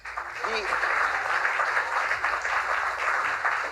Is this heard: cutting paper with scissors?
no